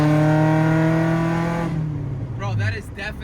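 A JDM K24A engine in a Honda Integra revs hard on a dyno at partial throttle, a loud rising harmonic howl. It drops away after about two seconds as excited voices talk over the fading engine.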